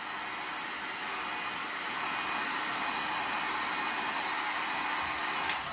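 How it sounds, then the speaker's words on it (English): A heat gun warms a PVC pipe to curve it, blowing a loud, steady hissing roar that holds at an even level for several seconds with no talking. "It's much easier to do with, you know, a heat gun, because you're applying the heat into a smaller area."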